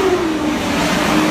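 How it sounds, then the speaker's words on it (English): A car passes on a New York City street in December, a brief loud engine rush with rising and falling tone against street noise. "there's a car coming, of course."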